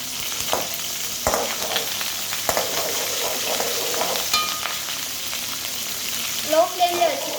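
Onions, curry leaves and chillies fry gently in oil over a low flame, giving a steady soft sizzle with a few sharper crackles and a brief clatter near the end.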